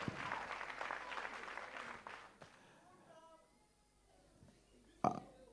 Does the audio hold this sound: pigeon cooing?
no